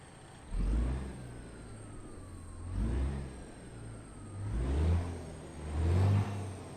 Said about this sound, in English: the Detroit Diesel Series 60 straight pipe sound